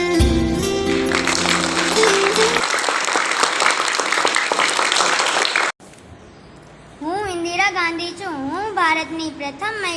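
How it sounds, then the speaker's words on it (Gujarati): Audience applause welcomes Class 5 schoolgirls about to portray famous women at a school International Women's Day celebration, a loud sustained clapping burst for several seconds, cut off and followed by someone speaking. "તેમને તાળીઓથી વધાવી લઈએ"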